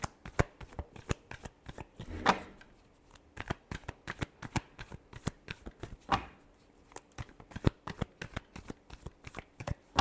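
Tarot cards are shuffled close up in quick, crisp riffling flicks that repeat rhythmically throughout, soft and steady with no talk.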